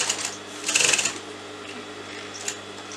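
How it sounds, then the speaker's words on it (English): A sewing machine stitches fabric for cuff sleeves, a short close burst of rapid mechanical clatter followed by a quieter motor hum and a small click. "Put the needle in again, turn the fabric and you're going to sew that straight."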